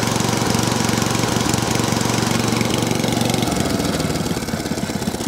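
A cylinder lawn mower engine fitted with a Dell'Orto carburetor idles loud and close, with a steady rapid chugging that softens and thins slightly near the end.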